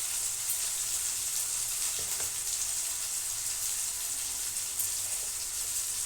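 A potato mixture with salt, turmeric and chili powder fries in a pan, giving off a steady, close hiss of sizzling oil with faint stirring scrapes throughout and no talking.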